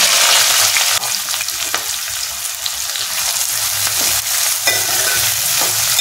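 Sliced onions, green chillies and a bay leaf fry in oil for a country chicken curry. The loud, continuous sizzle has small stirring scrapes and occasional bursts of crackle.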